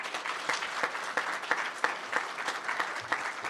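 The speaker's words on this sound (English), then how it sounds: "round of applause for that." Audience applause at a sheriff's office years-of-service awards ceremony: a steady patter of many hands clapping, moderately loud and evenly sustained, with no speech over it.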